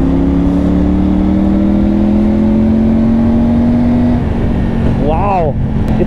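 Triumph Tiger 900 motorcycle fitted with a Scorpion exhaust, a loud steady engine drone while riding at constant speed, then the revs climb sharply near the end as the throttle opens, with a voice speaking over it.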